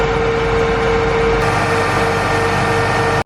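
A farm tractor engine runs steadily at a low idle to build air pressure for a planter, a continuous close rumble with a constant mechanical whine and no talk.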